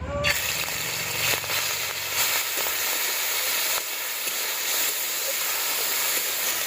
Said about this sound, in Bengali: এবার এই চিংড়ি মাছগুলো আমি ভেজে নেব